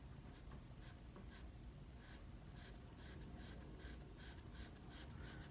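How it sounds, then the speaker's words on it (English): Charcoal pencil shading on paper gives faint, close, repeated scratchy strokes that come in a quickening rhythm of short sweeps over a quiet background. "then I'm going to take my charcoal pencil and"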